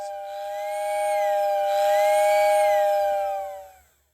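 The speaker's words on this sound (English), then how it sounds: "And listen to that whistle." A Lionel 125 whistle station's steam whistle blows one long, steady chord-like tone, swelling slightly then cutting off with a hiss.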